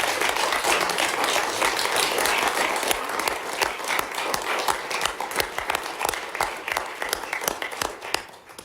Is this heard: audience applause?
yes